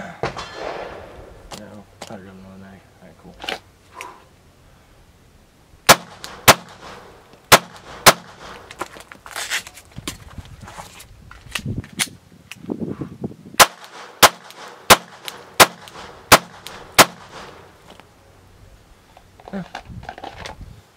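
Pistol fire from a Sig Sauer P365 or Glock 19 at an outdoor range, scattered single shots then a quick string of about a dozen sharp evenly spaced cracks, loud and near, with people talking in between.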